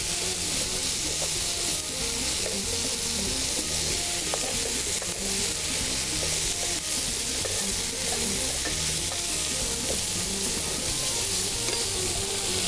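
Seekh kababs fry in a pan, a loud continuous sizzle with occasional stirring scrapes and pops, steady and close throughout, with no talking.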